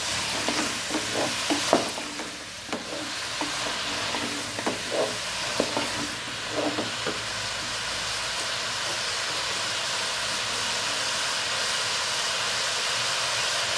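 Chopped turnips being stirred in a hot pan, with sharp spatula scrapes and clinks over a steady sizzle for the first several seconds, then only an even hiss of cooking.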